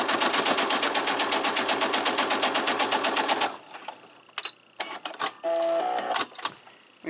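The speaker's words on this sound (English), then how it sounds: "sew it down" Sewing a four-patch quilt block, a machine hammers out a fast, rhythmic run of stitches for about three and a half seconds, then stops, leaving scattered clicks and handling sounds.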